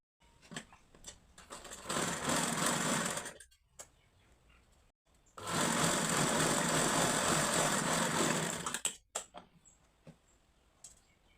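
A sewing machine stitches a katori blouse in two sustained runs of whirring, the longer one lasting about three seconds, separated by pauses filled with faint handling clicks and taps, close by.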